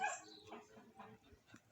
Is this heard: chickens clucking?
no